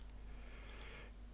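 A computer mouse gives a few soft, faint clicks, two close together and one a moment later, during photo editing in Lightroom over quiet background hum.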